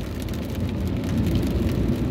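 Dense, steady downpour hisses continuously on a road trip, a heavy rain with a low rumbling wash and no voices.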